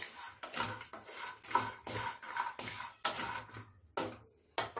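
Dry fruits lightly roasting in a pan for poha namkeen, a spatula repeatedly scraping and clattering against the metal in uneven strokes, close and fairly loud, no talk.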